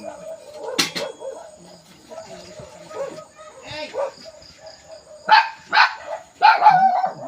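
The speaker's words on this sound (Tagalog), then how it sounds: "Ingay ng mga aso dito." Dogs bark repeatedly nearby in bursts, sharp yaps scattered across the stretch and growing louder toward the end, with some people talking.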